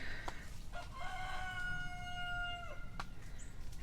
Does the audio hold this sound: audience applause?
no